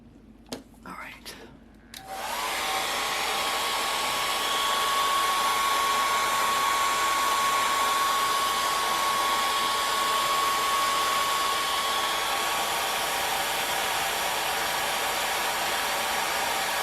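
A hair dryer drying a puddle of watercolor paint on paper starts after a couple of seconds of soft handling noises, then blows in a loud, continuous, close whoosh.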